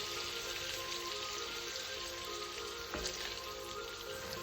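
Oyster mushrooms sauté in a pan with a dense, even crackling sizzle like light rain, fairly quiet and continuous, broken by one brief knock near the end.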